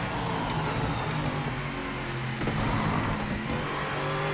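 GTE race car in Project Motor Racing accelerating hard under power, a steady, loud engine drone with rising harmonic tones running continuously and close throughout.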